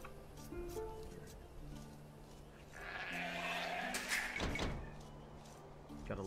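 Sheep bleat a few times amid Age of Empires-style real-time strategy game sounds and a soft door-like slide, with a voice talking over the top.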